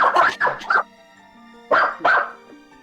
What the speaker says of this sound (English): He just barks at everything.